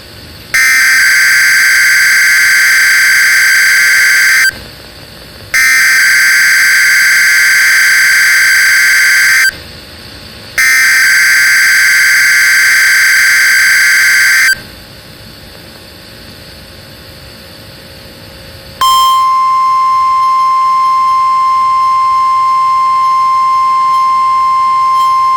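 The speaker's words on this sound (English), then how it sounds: "This has been a test of the NOAA All Hazards Weather Radio Alarm System." A NOAA Weather Radio emergency alert test plays loud and alone: three long bursts of harsh, buzzy data tones separated by short gaps, a stretch of quiet hiss, then a long, steady, piercing alert tone.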